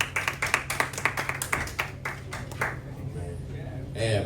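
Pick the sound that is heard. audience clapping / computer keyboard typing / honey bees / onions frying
audience clapping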